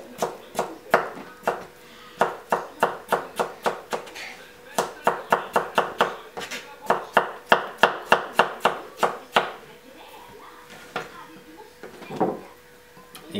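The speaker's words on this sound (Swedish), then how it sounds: "Sen ska hacka den i mindre bitar." A knife chops guacamole ingredients into smaller pieces on a cutting board, with quick rhythmic bursts of sharp, close knocks that pause and then resume before trailing off.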